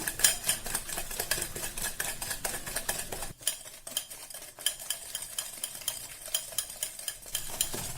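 Rapid, steady hand-whisking of eggless chocolate cake batter with vanilla essence in a tilted bowl, no electric beater, with a fast rhythmic clatter of the utensil against the bowl throughout, close and fairly loud, with no speech.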